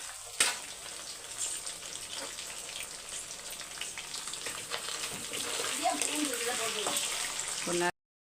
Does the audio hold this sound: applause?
no